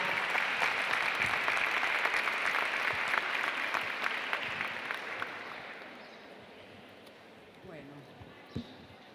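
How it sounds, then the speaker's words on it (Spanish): An audience applauding at a teachers' gathering, a dense wash of clapping that holds steady, then thins and fades out over the last few seconds, leaving quiet room noise and a few stray sounds. "le pido un aplauso para Estela y para Graciela"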